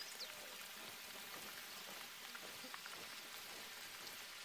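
Steady rain falling outdoors in wet swampy country, a dense continuous hiss of drops hitting surfaces with no pauses.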